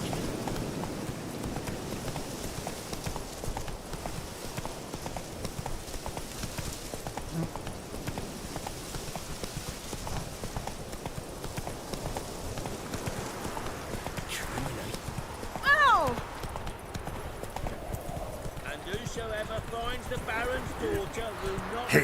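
Horse galloping in The Witcher 3: Wild Hunt, with a steady run of hoofbeats under game ambience and occasional talk, plus a brief louder clatter partway through.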